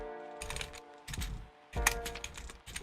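Computer keyboard clicking, close and fairly quiet: three short bursts of rapid key taps separated by brief pauses, with no voices.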